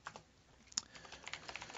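Quiet, irregular key clicks from someone typing on a computer keyboard, a quick burst of taps close to the microphone with one sharper keystroke partway through.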